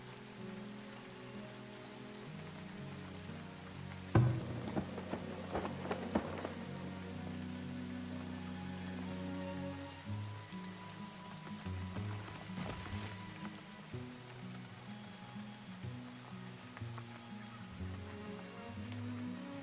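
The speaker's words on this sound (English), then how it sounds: "early autumn, which means more lightning and rain" Steady rain in the city-builder game Farthest Front patters on surfaces throughout, with a short burst of louder drops near the start, over a low droning background tone.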